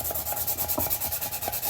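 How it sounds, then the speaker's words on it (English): Quick back-and-forth rubbing strokes of 220 grit sandpaper distressing painted thrifted home decor, a rhythmic scratchy rasp repeating about every tenth of a second, close and steady with no talk. "She's just using 220 grit to distress it because it was not coming off."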